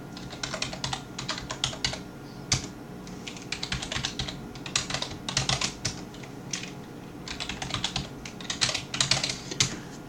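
A password typed on a computer keyboard, with quick bursts of clicking keys separated by short pauses, close and clear in a quiet room with no voices.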